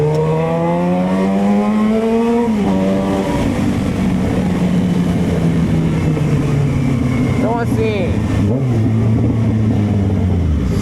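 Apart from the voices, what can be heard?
Yamaha XJ6 motorcycle engine revving, closed exhaust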